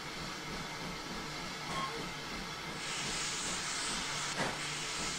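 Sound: steam hissing from open cylinder cocks, GWR 14xx locomotive, Train Simulator 2016 video game

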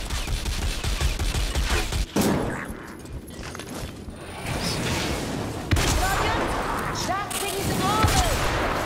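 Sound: Skaven ratling gun firing, from video game Vermintide

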